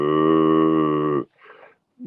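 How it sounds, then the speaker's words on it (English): A cow lowing, one long, steady, loud moo held for over a second that ends abruptly, followed by a short breathy snort and a brief fainter sound. "That's a cow lowing."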